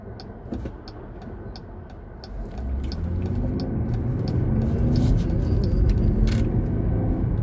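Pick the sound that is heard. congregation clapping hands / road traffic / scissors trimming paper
road traffic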